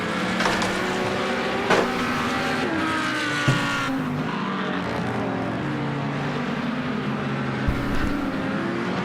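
Race cars on a circuit during a Platinum Pilot Series endurance race in Spain, a continuous engine drone with shifting pitch as cars pass, and an occasional brief thump or tyre chirp.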